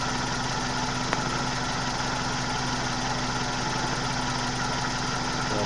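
A 1997 Suzuki Baleno engine idles roughly with a limping, misfiring beat, a steady close engine rumble with an uneven pulse and no talk over it.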